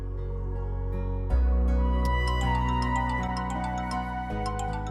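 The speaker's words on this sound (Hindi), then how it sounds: "आपा का फोन आ रहा है।" An incoming call sets a mobile phone ringing, its melodic electronic ringtone starting abruptly and repeating a bright tune at steady volume, with no voices over it.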